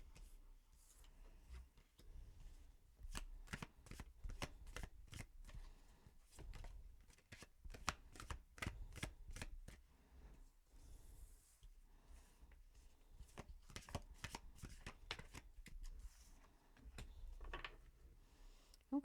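Tarot cards being shuffled by hand for a reading, a steady run of crisp riffling clicks and flicks that comes in repeated bursts, close and clear, with no talk over it.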